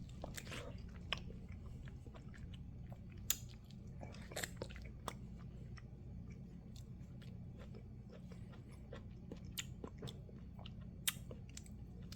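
Someone eats mango pieces with quiet, close chewing and occasional soft biting clicks scattered irregularly through a faint background.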